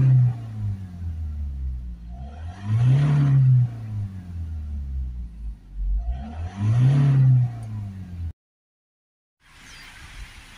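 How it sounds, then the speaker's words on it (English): A Ford Transit van with an exhaust aftertreatment glow plug fault revs up close in two strong bursts of acceleration, each rising and falling back to a rumbling idle, before the sound cuts out. "the fastest way to do that is just by bursts of acceleration"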